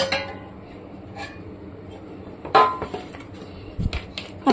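A metal cake mold for banana bread is handled in a kitchen, giving a few clanks and metallic clinks, a sharper knock near the end, and light rattling against a quiet background.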